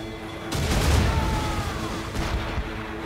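A heavy ship cannon broadside booms out in Assassin's Creed: Rogue, a loud, deep blast followed by rolling, crackling reports and a lingering rumble, with a second burst of shots near the end.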